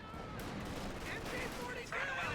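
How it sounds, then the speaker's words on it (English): MG-42 machine gun fire in the World War II strategy game Company of Heroes 2, a continuous rattling burst of gunfire running beneath a voice talking throughout. "Take an MG-42 fire!"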